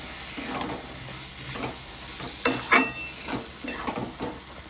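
Kochur lati (taro stolons) being stirred with a ground mustard, poppy seed and coconut paste in a pan, giving soft intermittent scraping and clinking strokes over a faint sizzle, fairly quiet and close, with no talking.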